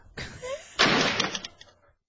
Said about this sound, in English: Before saying, thank you for your time, and slamming the front door.